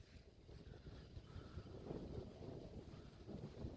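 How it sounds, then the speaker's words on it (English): Wind buffets the microphone out on a lake during kayak bass fishing, a continuous low rushing roar that swells and fades unevenly with no voices. "This wind is not kosher."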